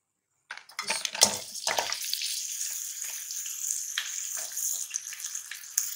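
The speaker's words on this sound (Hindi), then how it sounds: "अब इसमें मटन डाल दूंगी।" Mutton dropped into a hot pot starts a sudden loud sizzle that settles into steady crackling frying, with a few metallic clinks of the pan close by.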